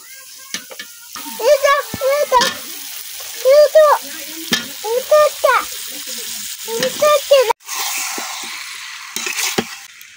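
Ash gourd is stirred and fried in spice paste in a pan, with bursts of hissing sizzle and scraping. Intermittent chirpy tonal sounds cut in over the cooking noise.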